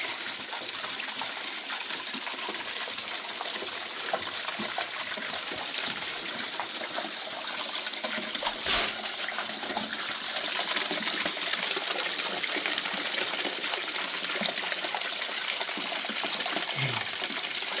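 Rushing water near a waterfall, a steady, close gush and splash that continues unbroken while someone moves through it, with a brief louder splash partway through.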